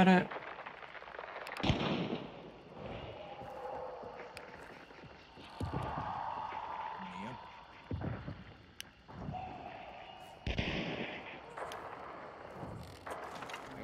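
Gunfire in the video game Hunt: Showdown during a boss fight, with a few sharp shots spread through the clip over wind-like background noise and someone talking.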